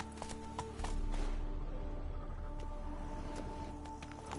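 Roach, the horse in The Witcher 3, gallops with rapid, rhythmic hoofbeats that grow louder and heavier after a moment and then hold a steady, close pace with no talking.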